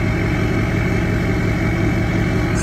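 Duramax LBZ diesel pickup with a downpipe and straight-pipe exhaust idles with a deep, steady, rumbling drone, continuous and fairly loud, with no talk over it.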